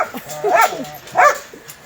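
Large dog at an animal shelter giving two short, close bark-whimpers with a whiny rising tone, separated by a brief pause, with faint background murmur.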